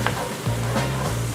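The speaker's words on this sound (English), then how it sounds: "So I'll just stir those all in." Ground cinnamon and allspice are stirred into a sizzling pan of stuffing for pork tenderloin, giving a steady close frying hiss with a low hum beneath and light scraping from the stir.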